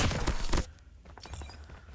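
Dense burst of gunfire in Call of Duty Mobile, loud rapid shots for just over half a second, then quieter scattered game sounds and faint thumps.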